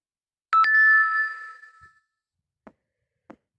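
Message notification chime: a bright two-note ding rings out and fades over about a second, followed by two faint soft taps.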